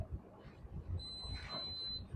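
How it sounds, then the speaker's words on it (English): A boat's bow thruster control panel gives a single thin electronic beep, steady and fairly faint, held for about a second against a quiet low background. "Press those 2 buttons together to hear a beep."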